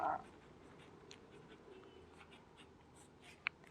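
Faint scratchy strokes of writing on a board while a class 8 maths problem is solved, quiet and close, with a couple of sharper taps near the end.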